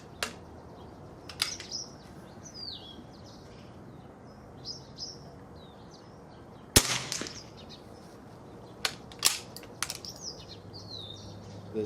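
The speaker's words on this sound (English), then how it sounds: "First we'll be shooting the S&B Subsonic." A .22LR S&B Subsonic rifle round fired outdoors: one sharp, fairly quiet crack, followed by a few smaller pops and clicks, with birds chirping throughout.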